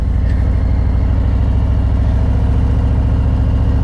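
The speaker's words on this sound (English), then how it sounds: "You're bringing your revs up, and you're allowing the bike to move." A motorcycle engine runs close by with a steady, throbbing rumble, holding an even pitch throughout.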